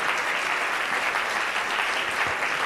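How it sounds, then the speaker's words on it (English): A church congregation claps their hands together in steady, dense, continuous applause filling the room, loud and uniform throughout. "Now just clap your hands and thank the Lord"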